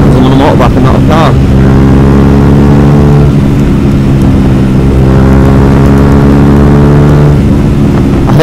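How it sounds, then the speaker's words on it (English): Yamaha YZF R125 125cc motorcycle engine held at full throttle, a loud, steady high-pitched drone with shifting harmonics and a brief dip mid-ride. "My full throttle because I'm on a motorbike and not a car"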